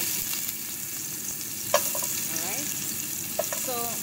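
Carrots sizzle in a tablespoon of hot oil in a pan for a tofu stew, a steady frying hiss with a few faint clinks and stirring sounds, no speech.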